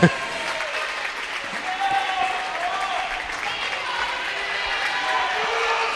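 Basketball crowd at a Northern Valley girls' sub-state quarterfinal game applauding a player, a steady wash of clapping and cheering filling the gym for the whole stretch, with commentators talking over it.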